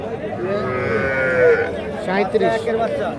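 A young bull calf at a cattle market gives a drawn-out, close moo, followed by a second shorter call, with people chatting faintly in the background.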